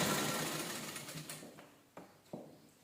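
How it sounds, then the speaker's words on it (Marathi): A sewing machine stitching blouse fabric pieces, with a fast whirring run that slows and fades, followed by a few short separate clicks and thumps. "एकसारखं स्टिच करून घेऊया."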